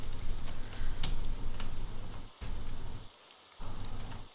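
Steady rain in Morrowind, a dense patter of drops with regular ticking hits, continuous and fairly loud, cutting out briefly twice before resuming.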